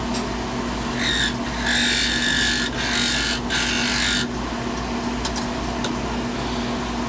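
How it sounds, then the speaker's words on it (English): A purpleheart handle spins on a wood lathe without a live center while a tool cuts it, producing a loud, harsh chattering grind in bursts over a constant motor hum. "without the live center it is going to chatter around quite a bit"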